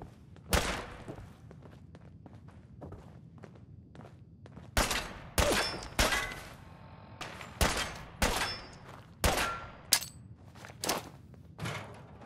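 Gunfire in the Fallout 4 video game: repeated loud shots and bursts at uneven intervals, each a sharp crack with a short decay, over a low background rumble.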